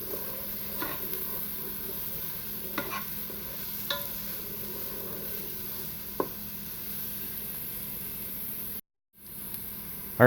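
Onions and mushrooms sizzle softly in a Ninja Foodi with a steady frying hiss, punctuated by several sharp utensil scrapes and taps from stirring, close by with no talking, cutting out briefly near the end.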